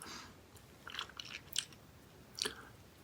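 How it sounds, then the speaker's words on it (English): Crunchy bites of Skittles freeze-dried sour candy, close-miked eating with a few sharp crunches and soft chewing between them, quiet and intimate with no talk. "when you chew it, it gives you that nice crunchiness"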